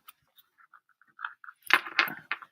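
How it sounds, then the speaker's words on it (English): Soft papery flicks and riffles, a few light taps building into a brisk burst of shuffling cards, close by. "I'm going to shuffle again."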